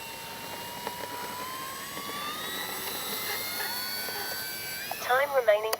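An X-Fly Spitfire RC model plane takes off, its motor whining and climbing steadily in pitch at a moderate distance. A voice cuts in briefly near the end.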